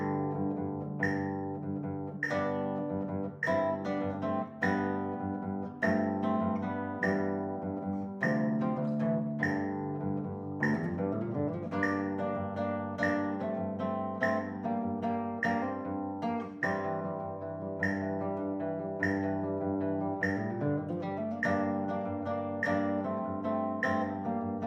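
A melody played solo on guitar, a steady lilting run of plucked notes with a sustained bass ringing underneath, close and clear throughout.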